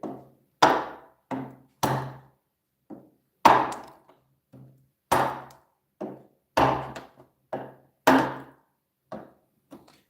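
A Morakniv Pro Robust knife chopping wood gives a series of about fifteen sharp, hollow thunks at an irregular pace, each a short crisp strike with a quick decay and silence between blows.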